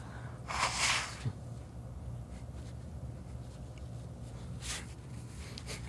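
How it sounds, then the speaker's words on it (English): A short, forceful nasal blow near the start, followed by quieter sniffs and a brief snort later, close to the microphone with no speech. "I got to blow my nose"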